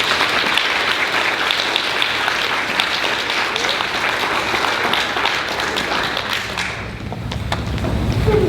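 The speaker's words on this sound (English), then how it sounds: "So let's give them one last round of applause." Sustained audience applause fills a school fifth-grade award celebration, a dense, steady wash of many hands clapping close by that barely dips near the end before swelling again.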